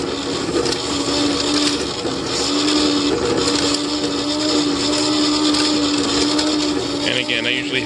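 A scrap plastic shredder grinding a handful of plastic pieces, a loud steady whirring churn with rattling chunks, sustained and close throughout.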